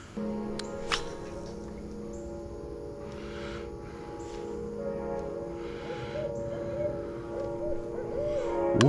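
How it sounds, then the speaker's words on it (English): Deep hoots from a big owl carry over a small creek, sounding through a steady hum of insects and running water, with a sharp knock near the start. "the big owl's waking up"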